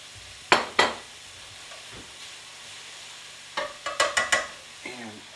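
Green beans warmed in oil in a pan for a truffled green bean medley, with a few separate scrapes and clatters of stirring over a faint, low sizzle, bunched in two short bursts.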